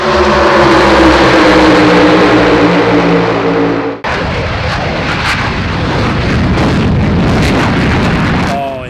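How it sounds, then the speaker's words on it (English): A military jet flying with its afterburner lit gives a loud, close, harmonic engine roar, then cuts abruptly to a dense, thundering broadband rumble that persists. "As soon as you see your aircraft fly and you feel the afterburner and you feel everything that's going on"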